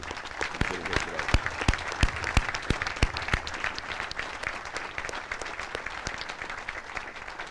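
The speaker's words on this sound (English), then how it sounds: "join me in giving our cadre, our cadets, and our families a great round of applause" An audience at an Army cadet regiment advanced camp graduation claps steadily in a moderate, sustained round of applause that gradually thins toward the end.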